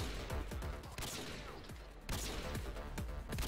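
Dense bursts of gunfire in Goat Simulator, rapid overlapping shots crackling continuously throughout, loud and close with a few sharper volleys standing out.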